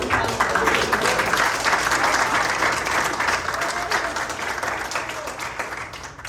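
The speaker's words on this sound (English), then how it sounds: "let's give a warm round of applause" Dense, steady applause from an audience at the 2022 North County Hispanic Leaders Awards ceremony in Escondido, a full crowd clapping continuously for about six seconds and easing slightly toward the end.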